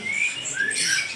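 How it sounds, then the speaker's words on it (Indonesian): A young straw-headed bulbul (cucak rowo) at a bird market gives thin, high, whistled calls over soft background noise, fairly quiet and brief. "Oh, cucak Rowo anakan."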